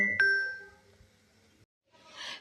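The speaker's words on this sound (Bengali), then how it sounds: "ফোন চলে আসছে" A phone notification chime rings out in a home kitchen: a single bright ding that fades, followed by a short soft rustle.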